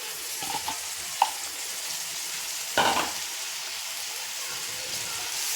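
Washed soaked rice being stirred in a hot pan with spiced tempering for a masala Maggi rice, a soft steady sizzle and hiss with a few scraping stirs, fairly quiet.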